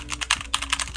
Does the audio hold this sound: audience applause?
no